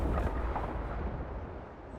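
A ship explodes in the pirate video game Sea of Thieves with a loud, broad rumbling blast that slowly fades over two seconds.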